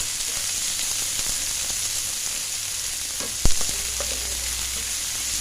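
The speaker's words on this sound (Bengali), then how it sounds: "এবার পেঁয়াজগুলো হালকা ব্রাউন করে ভেজে নেব" Two medium chopped onions frying in a pan toward light brown, giving a steady, loud, dense sizzle throughout, with one brief sharp clink of a utensil midway and no voices.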